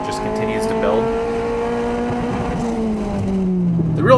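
Honda CRX or Civic fitted with an aftermarket exhaust revving steadily, a sustained buzzy engine note that holds and slowly shifts in pitch over about four seconds, fairly loud and close.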